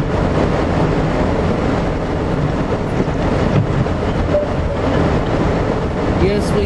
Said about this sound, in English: That's the DPU on the rear end shoving.